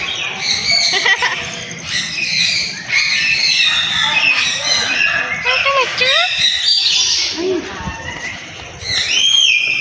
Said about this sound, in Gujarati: આ પોપટ તો જોયો જ નહીં ભાઈ સાચી.